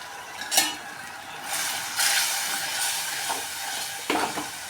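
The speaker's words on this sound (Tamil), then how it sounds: "வெங்காயம், மிளகாத்தூள், மஞ்சள் தூள்லாம் போட்டு நல்லா வதங்கிடுச்சு" Onion, tomato paste, chili powder and turmeric sautéing in oil in a pan for vatha kuzhambu, a steady soft sizzle broken by a few sharp scraping stirs of the spoon, heard close up.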